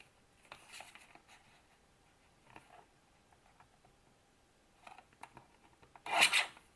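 Paper trimmed from a 6 x 6 craft paper pad: faint, scattered scraping and rasping strokes of a blade across paper, quiet and close, ending in one louder sharp slicing swipe.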